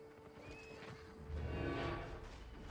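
A horse neighs and whinnies with clip-clopping hooves as players dismount in the online game Albion Online, a fairly faint whinny rising in the middle over steady game ambience.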